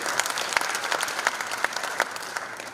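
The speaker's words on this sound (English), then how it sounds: "Please applaud the presence of Maruk Nasor Maruk, please." Applause from the audience at an official government ceremony, a continuous crowd clapping with individual sharp claps standing out, holding a moderate, even level throughout.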